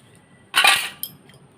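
Brass pooja vessels knock together once in a sharp metallic clatter, followed by a lighter clink as they are handled at home, close by and alone in an otherwise quiet room.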